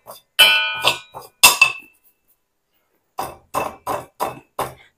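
A metal ladle crushes roasted mustard seeds and cloves with sharp, close clinks and knocks, a few quick strikes, a pause, then five evenly spaced taps.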